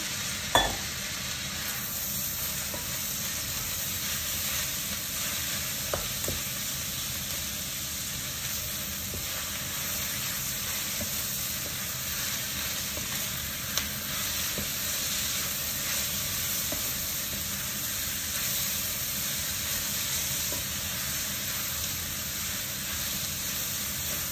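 Chicken fries in a pan, a constant dense sizzle and hiss held close for the whole stretch, with a couple of faint knocks and no talking.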